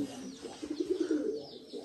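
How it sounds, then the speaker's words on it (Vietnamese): Pigeons coo from a house roof: a few soft, throaty cooing phrases in quick succession, close and moderately loud against a faint background hiss, with no talking. "Nên nuôi chim bồ câu nhiều nó cứ kêu trên mái nhà nhỉ."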